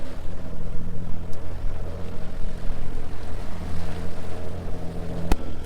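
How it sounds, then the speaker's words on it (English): Boats pass nearby while sailing near l'Aberwrach, a continuous engine drone and water wash heard from on board. The droning swells and fades gently throughout. "Literally boats sailing the other way up past us."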